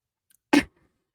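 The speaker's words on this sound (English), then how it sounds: "I'm going to sneeze." A single short, sharp sneeze bursts out close up, alone in an otherwise quiet room.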